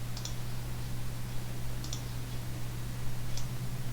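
A computer mouse clicks three times at regular intervals, sharp and close, over a steady low electrical hum.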